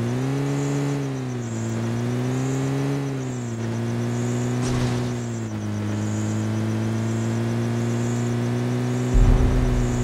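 A vehicle in Battlegrounds Mobile India drives steadily toward the safe zone, its engine holding a continuous droning hum with slight pitch swells as it accelerates, loud and close with no talk over it.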